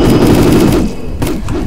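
Rapid automatic gunfire in a mobile-style shooter game, a loud dense burst that runs steadily for most of the span, then drops off briefly before a few more shots return.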